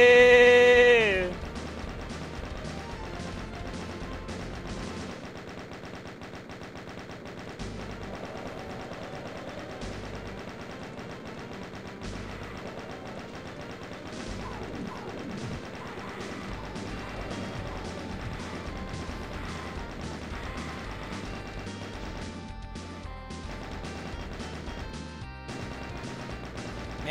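Rapid, continuous gunfire from the Doom mod Community Chest 4 runs steadily for nearly half a minute, a dense, even stream of shots with crashes, while someone talks over it.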